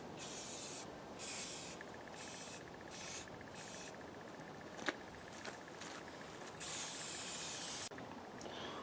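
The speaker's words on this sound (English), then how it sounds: "Now I'm just trying to put some protective paint on here." An aerosol can sprays satin black protective paint onto the underside of a homemade lawn trailer with a powered dump bed, steady hissing bursts of several seconds with brief pauses, close and fairly quiet.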